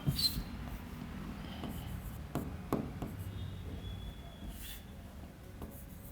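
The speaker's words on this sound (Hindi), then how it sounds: "लिखेंगे इस बात को" Chalk or marker writing on a classroom board during a polity lecture: a few scratchy, sharp strokes and taps against a steady low room hum, with no speech.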